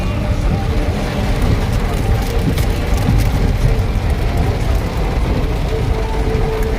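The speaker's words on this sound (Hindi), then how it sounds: "पानी आ गया झमाझम, फिर से और ज्यादा बढ़ गया है।" Heavy rain pours down during a drive in Dehradun, a loud, constant hiss and drumming on the car mixed with the road noise of the moving vehicle.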